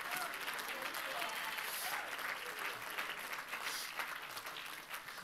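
A church congregation claps and shouts in steady praise, dense broadband applause with raised voices sustained throughout, fairly close and even in loudness.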